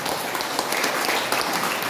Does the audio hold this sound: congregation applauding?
yes